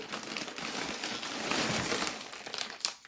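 A 7-liter plastic bag of universal potting soil being handled, producing close, continuous crinkling and rustling of the plastic for about three seconds with no talking.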